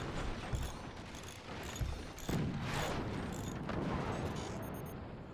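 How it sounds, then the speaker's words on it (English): Cannon shot slamming into armored doors in the Forts game, a dense rumbling barrage of booms and metallic clatter layered over continuous battle noise, with sharp impacts near the start and middle. "Cannon shot hits the armored doors, doing some splash damage."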